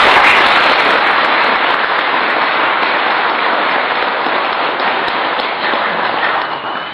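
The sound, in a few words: audience applause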